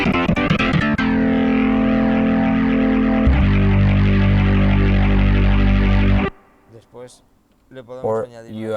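A Hammond XK5 organ plays sustained chords, clean at first and then thick and gritty once a distortion effect kicks in, loud and held for several seconds before cutting off into short softer organ phrases.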